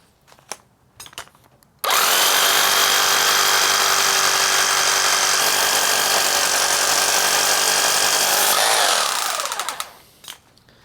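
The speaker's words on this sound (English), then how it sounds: "Let's put a drill bit in it and see if it actually drills through concrete." A Ramset Dyna Drill whines loudly and continuously into concrete for about seven seconds, grinding steadily before spinning down, with brief clicks and handling noise before it starts.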